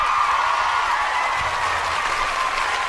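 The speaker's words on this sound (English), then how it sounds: "Give yourselves a big round of applause." Audience at a live show applauding, a dense, steady wash of clapping that holds at an even level throughout.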